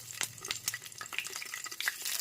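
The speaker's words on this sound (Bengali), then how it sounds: "কড়াইতে তেল আমার গরম হয়ে গেছে। এইবারে দিয়ে দেবো বেগুন," Brinjal pieces drop into hot oil in a wok, setting off a soft sizzle with scattered clinks and splashes from stirring, close but fairly quiet, with no voices.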